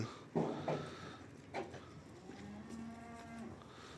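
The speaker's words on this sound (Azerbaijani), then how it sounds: "hamısı da sort, biri-birindən gözəl danalardır" Calves at a livestock market in Barda give a long, low, drawn-out moo, near and fairly loud, with a few short knocks and shuffling sounds just before it.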